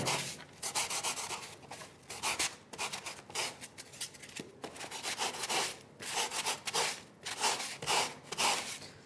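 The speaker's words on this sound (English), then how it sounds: "And now these edges I can start to sand." Sanding the edges of a shaped part by hand: close, steady rasping strokes in a rhythmic back-and-forth pattern with short pauses between passes.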